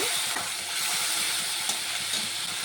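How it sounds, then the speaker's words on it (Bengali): Ginger-cumin paste sizzling in hot oil in a wok, a continuous bright crackling sizzle with faint stirring, close and steady, no voices. "তেলটি গরম হয়ে গেছে দিয়ে দেবো আদা জিরে বাটা আদা জিরে বাটাটা দিয়ে একটু নেড়ে ছেড়ে দেব"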